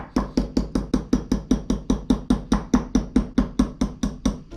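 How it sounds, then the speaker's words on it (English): Butter being whipped by hand with a whisk in a bowl, giving a fast, even series of sharp knocking strokes, roughly four per second, loud and close with no talking. "Just want to whip this butter quickly."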